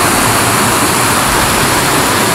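Steady, dense roar of water pouring down the Lakhaniya Dari waterfall near Ahraura, Mirzapur, a loud unbroken wash with no voices.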